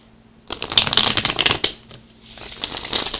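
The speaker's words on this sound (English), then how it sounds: "Just got 2 shuffles left" A cat tarot card deck being shuffled by hand, close and crisp, with rapid riffling bursts in two rounds separated by a short pause.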